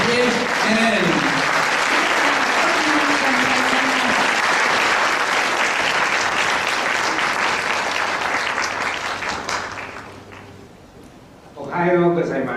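Loud, sustained audience applause fills a conference hall as a keynote speaker is welcomed to the podium, steady for about ten seconds before fading, then a voice begins speaking.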